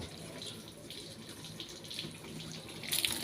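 Running water rinses a car headlight after a detergent cleaning, a steady close splashing and trickling flow with a brighter burst of spray near the end.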